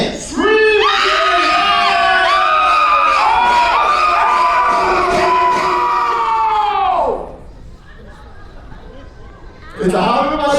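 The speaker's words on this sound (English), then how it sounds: "Count of three, ready to scream. Ready, and scream!" A crowd at a Universal Studios Hollywood special effects show screams loudly on cue, a dense sustained wave of shrieks lasting several seconds before fading into murmuring, then a new burst of voices at the end.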